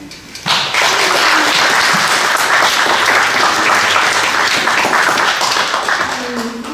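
A sizable audience applauds to welcome a visiting artist at a lecture, the clapping bursting in loudly and holding as a full, even roar before easing slightly at the end.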